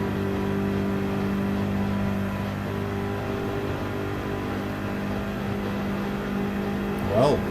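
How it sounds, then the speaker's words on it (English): BMW and Porsche race cars circle the Nürburgring Nordschleife in a racing game, their engines droning with steady harmonic whine and a rising rev near the end, under continuous commentary. "BMW doesn't sound like it's revving high enough at the moment"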